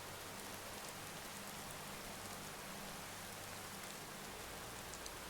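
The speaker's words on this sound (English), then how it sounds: "Especially the sound of the rain." Steady rain falling in the Tamriel Rebuilt mod of the Morrowind video game, a faint, even hiss of drops with no breaks and low hum beneath it.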